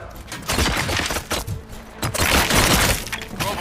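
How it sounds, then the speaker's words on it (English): Gunfire from the video game RoboCop: Rogue City comes in dense, loud bursts of rapid cracks with brief gaps between volleys. "Gunshots? What's going on?"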